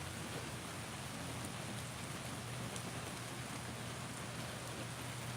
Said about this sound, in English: Crazy-ass storm in Florida.